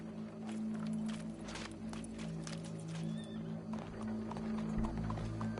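Horses in the Red Dead Redemption 2 video game, with clip-clop hooves, a neigh and snorting under a steady game ambience and a low droning hum, fairly close and moderately loud throughout.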